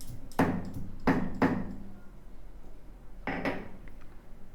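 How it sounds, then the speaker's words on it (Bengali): Fried prawns being ground into a paste, with four distinct knocking clinks of stone or utensil against a bowl spaced over a few seconds, moderately close, no voices. "চিংড়িটাকে আমি বেটে নিচ্ছি।"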